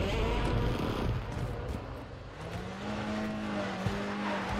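A vehicle in Call of Duty Warzone rumbles close behind the player, a steady low engine drone with a tonal whine sliding upward near the end, carrying on under faint talk.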